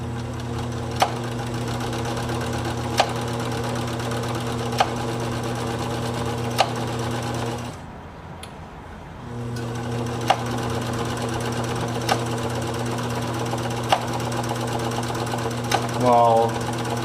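A Decora 950 B sewing machine, pulled from a junk heap and being serviced, runs with a loud steady drone and regular ticking knocks, stopping briefly mid-way before starting up again.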